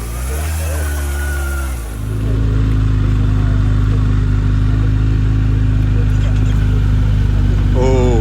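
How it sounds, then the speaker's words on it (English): A Japanese motorcycle at a local evening bike meet, started on its side stand and running on only one cylinder, rumbles loud and steady nearby, its engine note shifting early on before settling into a continuous drone with voices around. "Can you hear the Japanese bike leaving"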